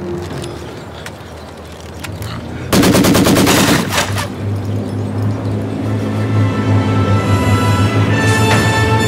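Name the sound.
machine gun fire in video game Company of Heroes 2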